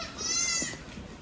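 Goats bleating in pens on a goat-rearing farm where chopped fodder is fed, one short wavering bleat rising over a soft, steady barn background.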